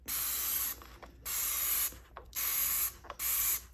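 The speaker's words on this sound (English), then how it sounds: "I like to spray down the parts just a little bit with some disinfectant" Four short bursts of disinfectant spray hiss onto plastic LEGO parts in a steady on-off rhythm, each lasting about half a second, close to the microphone with brief clicks between.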